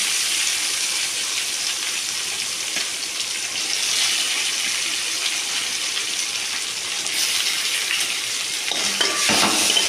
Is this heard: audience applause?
no